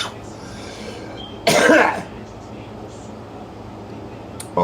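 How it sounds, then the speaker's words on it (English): A single loud cough bursts out mid-clip over a steady low hum and faint background noise, followed by quiet. "I got a minute to cough."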